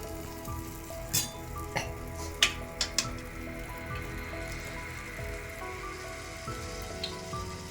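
Unniyappam batter frying in hot oil in a ladle, made without an unniyappam pan: a steady, close crackling sizzle like light rain, broken by a few sharper pops and spits, with no voices.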